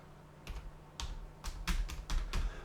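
Typing on a computer keyboard, a handful of distinct keystrokes spaced roughly half a second apart over a low steady room hum, close and moderately quiet, no speech.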